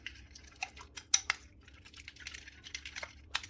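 A spoon mixing mint, coriander and green chili into curd in a bowl, giving soft irregular clinks and scrapes against the dish, close and fairly quiet, with a few sharper taps.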